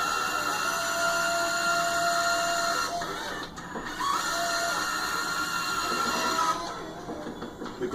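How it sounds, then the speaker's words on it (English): Stepper motors drive a 5-axis robotic arm with linear actuators, giving a steady high-pitched whine and hum that shifts in pitch as the joints move, loud and continuous throughout with brief dips. "This is a 5-axis robotic arm with 2 linear actuators and 3 stepper motors."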